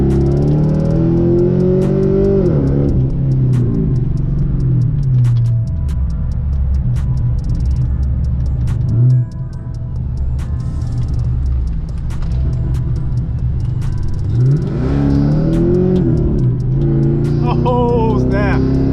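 A Pontiac G8's engine rumbles loud and close, climbing in revs and then dropping through downshifts, with people talking over the low drone.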